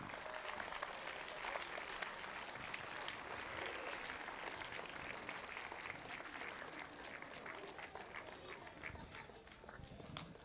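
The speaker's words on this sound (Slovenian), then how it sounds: "en velik aplavz za oba" Sustained applause from a large audience, dense steady clapping that continues for several seconds at an even level.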